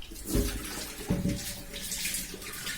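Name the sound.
rinsing a clay water pot with clean water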